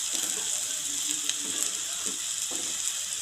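Chopped onions sprinkled with salt fry in a pan with a steady, close, even sizzle, broken now and then by soft stirring scrapes; nobody speaks.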